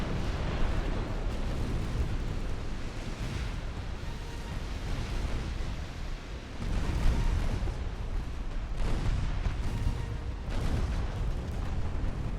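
Heavy naval combat in Ultimate Admiral: Dreadnoughts as torpedo hits explode against a warship, a continuous loud rumble of blasts and booms with a stronger surge of explosions partway through.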